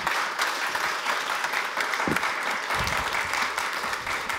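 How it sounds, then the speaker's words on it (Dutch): Steady, warm audience applause greets a Volkskrant journalist as he walks onto an interview stage, a dense wash of clapping at moderate distance holding evenly throughout. "Dames en heren, maakt u de handen klaar en geef hem een warm applaus."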